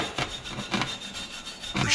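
Wire brush scrubbing welds on a metal turbo pedestal, three or four quick rasping strokes in a steady rhythm, close and moderately loud, with no voices.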